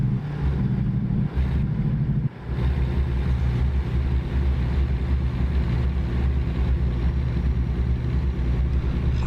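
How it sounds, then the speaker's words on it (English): A heavy truck in American Truck Simulator slows on its engine brakes, giving a continuous low, droning rumble that holds steady and loud throughout, with a brief dip near the start and no talking. "I'm just using my engine brakes to let me slow down."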